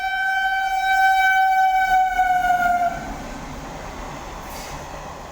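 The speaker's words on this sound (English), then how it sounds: "I think train is going." A goods train passes near a railway station, sounding a loud, steady horn blast for a few seconds before its low rumbling roll continues on its own.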